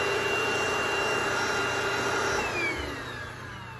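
Wireless rechargeable stick vacuum running at max suction, a steady close whine and airflow roar with no talking, easing slightly toward the end.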